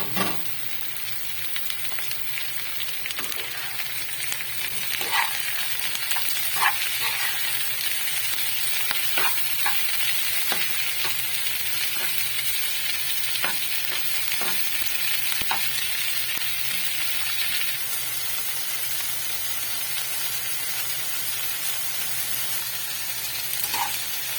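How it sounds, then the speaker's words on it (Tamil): Chopped bell pepper sautéing with softened onion in a pan for an egg stir-fry, giving a steady close sizzle and frying hiss with occasional crackles and stirring scrapes throughout, no talking. "இப்போ இதை கூட சேர்த்து இந்த குடமிளகாயை நல்லா வதக்கிக்கலாம்"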